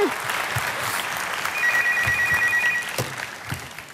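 A telephone rings in a busy room during a comedy episode, its steady electronic tone sounding for about a second amid crowd noise and a few low thumps.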